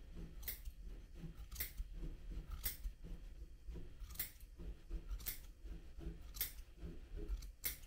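Scissors trimming excess yarn off a tufted rug, a series of crisp snips roughly every second, close and fairly soft.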